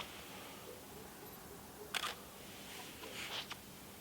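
A camera shutter fires twice in a quiet setting while photographing the full moon with a 600mm lens at 1/30 second, one short sharp click followed by a second softer one.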